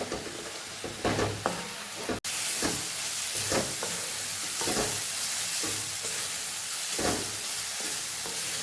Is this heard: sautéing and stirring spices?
yes